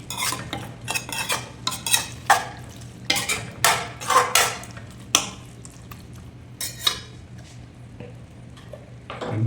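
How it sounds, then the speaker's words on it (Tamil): A spoon stirs turmeric powder into a cooking pan, producing repeated irregular scraping and clinking strokes against the metal, close and fairly loud, over a low background hum. "இப்போ நம்ம இதில் மஞ்சள் மிக்ஸ் பண்ணிக்கிறேன்."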